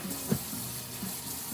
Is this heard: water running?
yes